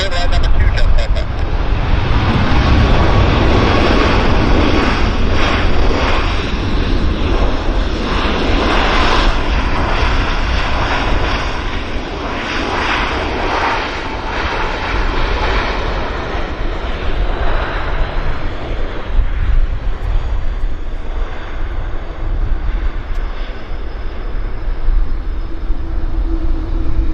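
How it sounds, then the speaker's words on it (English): An Air Canada Jazz Dash 8-400 from Terrace on approach to Vancouver Airport sends a loud, continuous turboprop drone throughout, with voices talking over it. "Air Canada Jazz Dash 8 400 from Terrace"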